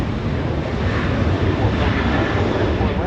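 A WestJet airliner in special Frozen livery at Los Angeles International Airport gives a steady, broad jet engine roar, with wind buffeting the microphone throughout.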